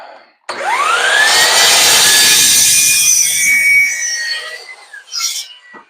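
Power saw slicing the end off a piece of wood, a loud close whine that rises as the motor spins up, holds through the cut for about three seconds, then trails off, with a brief clatter afterward.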